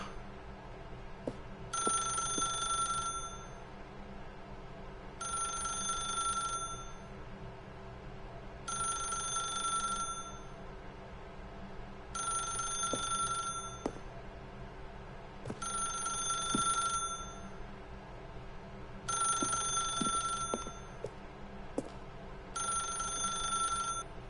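A telephone in The Stanley Parable rings in a steady repeating pattern, seven bright electronic bursts separated by short pauses, loud and alone over a low ambient hum.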